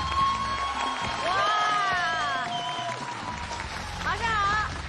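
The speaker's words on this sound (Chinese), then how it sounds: "掌声欢迎。" Studio audience applauds and cheers as actor Hou Yong is welcomed onto a Tianjin talk show stage, with whoops over steady clapping while hosts speak and call out over the noise.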